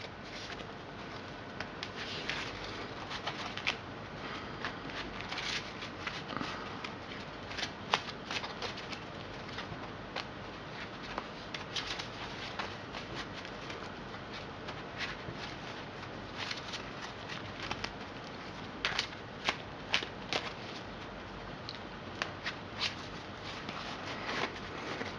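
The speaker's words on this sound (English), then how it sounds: "So I'm gonna be shuffling" A deck of Yu-Gi-Oh cards being shuffled by hand, repeated crisp riffles and flicks in quick bursts throughout, close and fairly quiet, with no talking.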